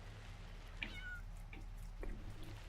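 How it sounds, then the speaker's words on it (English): A cat in Farming Simulator 22, on the Hof Bergman map, meows three or four times in short, high calls. The calls are faint and sit over a low, steady background hum. "You have also cats."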